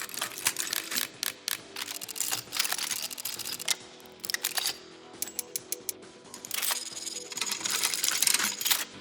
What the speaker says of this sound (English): I used a mixture of like metal scraping and gears turning and clicks and metal